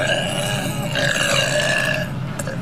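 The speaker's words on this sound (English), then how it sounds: "Burp on your zesty salsa." A long, loud burp rolls on for over two seconds, a sustained, rumbling eructation with no talk over it, let out over a dish of zesty salsa.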